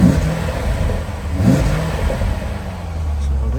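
A 2008 Chevrolet Corvette Indy 500 Pace Car runs with its NPP exhaust valves closed, giving a loud, close, steady rumble with a slight rev early on. A voice is heard faintly over the engine.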